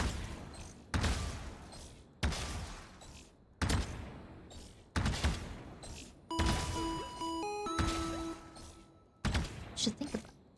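Video game gunshots in sharp bursts roughly every second or so, loud close cracks with decaying tails, mixed with crash and impact sounds and some tonal game effects.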